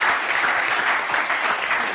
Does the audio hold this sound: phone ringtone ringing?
no